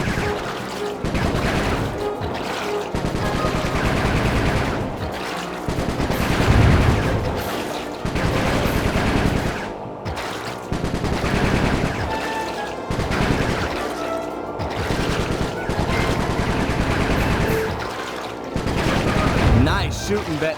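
Sustained gunfire and bursts from the Sly 3 video game, dense and loud throughout, with repeated shots and heavy thuds layered over a busy game soundtrack.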